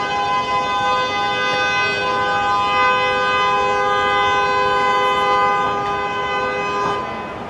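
A long, steady horn blares on a busy downtown city street, holding one sustained rich tone for several seconds over a bed of traffic noise before cutting off near the end.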